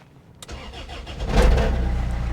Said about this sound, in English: let's see if the car fires up